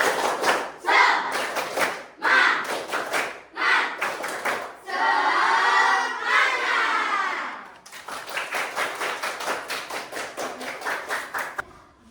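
Schoolchildren perform the rhythmic 'tepuk semangat' clapping chant, sharp unison claps in counted groups alternating with a brief shouted chant, then a final fast run of steady claps, loud and close in a classroom.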